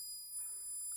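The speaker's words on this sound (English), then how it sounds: "Burglar alarm. It's not very loud." A homemade electronic burglar alarm built from a kit gives a faint, thin, high-pitched oscillating tone that holds steady and alone for the whole second.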